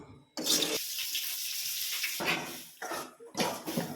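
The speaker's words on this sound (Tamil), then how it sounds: "இப்போ தண்ணி ஊற்றணும்" Water splashes and pours in several bursts, close by, while cooking country chicken intestines, with short gaps between pours and faint clinking in the background.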